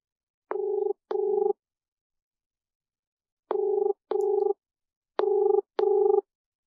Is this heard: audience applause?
no